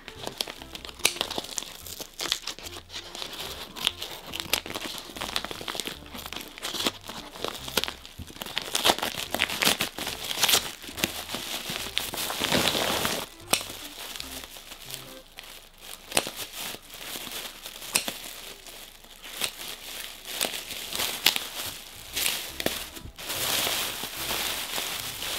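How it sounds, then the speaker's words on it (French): Parcel packaging crinkles and crackles steadily as a package of Pullip doll items is unwrapped close by, with dense rustling and occasional sharp tearing bursts throughout and no talking. "Et du coup, on va déballer celui-là."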